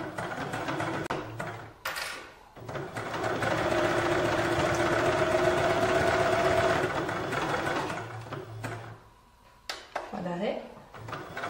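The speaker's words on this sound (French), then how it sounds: "je vais venir coudre vraiment entre les deux lignes de fil de fronce" A domestic sewing machine runs a zigzag stitch between two lines of gathering threads on a dress, a steady mechanical whir building to a sustained loud run mid-clip, bracketed by short clicks and handling noises before and after.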